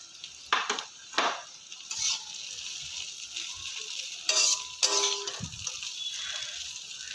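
Flattened rice (poha) tumbled into a pan of turmeric-fried oil and stirred, with a low background sizzle broken by several scraping, clattering bursts of the spoon against the pan.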